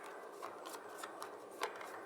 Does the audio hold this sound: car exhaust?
no